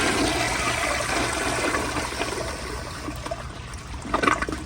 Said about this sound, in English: So here's another flush with the pressure just turned up a little bit more.